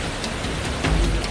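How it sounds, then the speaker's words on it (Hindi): Rain with hail falls in a sudden storm in Uttar Pradesh, a dense, loud, continuous hiss of drops and pellets striking surfaces, with a brief thud near the end. "यहां शाम होने से पहले ही बारिश के साथ अचानक ओले बरसने लगे।"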